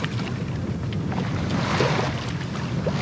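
A sailboat moves across open ocean with a steady rush of wind and water noise around the hull, continuous and fairly loud, with no voices.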